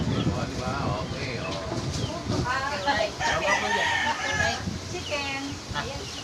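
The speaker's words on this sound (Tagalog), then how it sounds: "Chicken. Ayan, chicken." A rooster crows loudly among clucking chickens, the calls repeating close by over a busy background where people talk.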